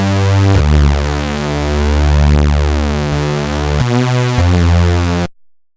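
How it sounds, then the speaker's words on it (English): Serum software synth playing a retro patch: detuned waveforms layered with a pulse-width-modulated square sub oscillator, sustained harmonic chords shifting pitch twice, loud and continuous with no talk, ending abruptly. "we can also add in a sub oscillator as well"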